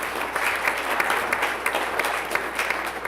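Congregation in an Igbo Anglican church applauding after a sermon at a pastor appreciation Sunday service, a dense, steady wash of many hands clapping throughout with scattered sharper claps and no talking over it.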